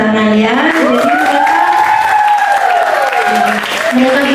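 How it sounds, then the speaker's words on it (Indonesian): Applause from an event audience fills the whole stretch, steady and close, while a voice speaks over it. "lalu ada Mbak Vicky, minta tepuk tangan ya."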